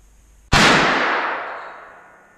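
Savage Arms Axis .223 rifle fired at a range toward downrange targets: one sharp, loud crack after quiet, with a ringing echo that slowly decays.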